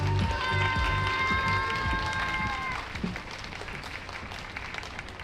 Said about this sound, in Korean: 도슨트 정우철 선생님을 뜨거운 박수로 모시겠습니다.